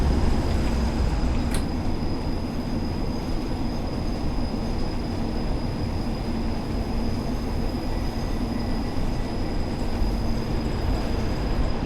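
A train in Train Sim World 4 rumbles along continuously with low wheel-on-rail roar and a faint steady high whine from braking, loud and unbroken, no voices.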